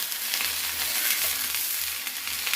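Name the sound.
jowar hurda thalipeeth roasting on a pan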